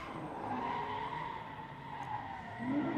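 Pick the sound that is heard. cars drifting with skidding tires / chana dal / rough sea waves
cars drifting with skidding tires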